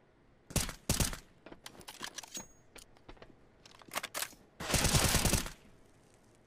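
Sharp bursts of game gunfire, single shots and short rapid volleys, then a longer loud blast, with quiet gaps between.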